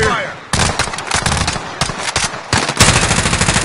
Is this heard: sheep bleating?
no